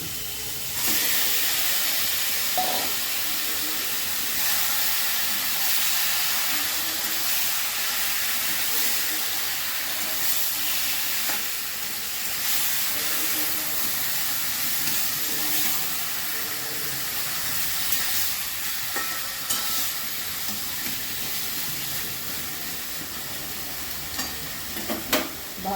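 Boiled taro leaves sizzle in a pan with prawns, a continuous hissing fry with scattered stirring clicks and spatula scrapes, steady and close throughout.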